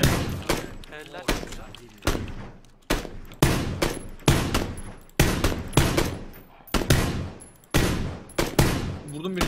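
Heavy gunfire in PUBG aimed at a vehicle's tire: loud close volleys of rapid shots in repeated bursts with brief gaps, and a voice talking over part of it.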